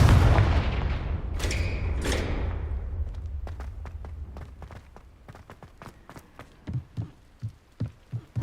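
A Confringo blasting spell explodes in Hogwarts Legacy with a loud boom that rolls off into a fading rumble, followed by a series of soft rhythmic thumps; no talking.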